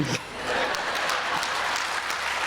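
Audience clapping at a Tamil pattimandram debate stage event, a broad steady wash of applause filling the whole stretch at a moderate distance.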